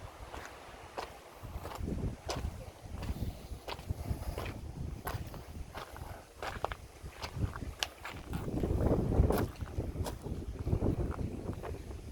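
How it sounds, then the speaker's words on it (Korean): Strong wind blows across a coastal walking trail on the Igidae Galmaetgil route by the sea, buffeting the microphone in gusts. Scattered crunching footsteps from walking in sandals come and go, and the wind swells louder near the end. "바람 많이 불어"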